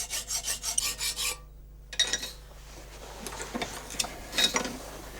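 Hand file rasping the metal of a knife blade forged from an old sickle, clamped in a vise; a rapid run of rhythmic back-and-forth strokes, a brief pause, then slower, irregular scraping and rubbing.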